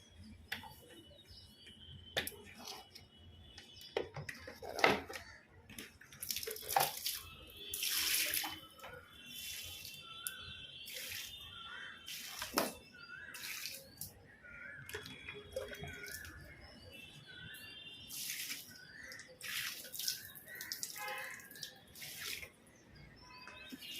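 Tap water splashes and runs in uneven bursts on a rooftop while plants are watered, with sharp clatters and a faint cat and birds in the background.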